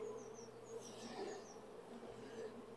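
Honey bees in an open hive, nurse bees among brood frames, drone in a steady close buzz that holds throughout with faint higher whines drifting over it.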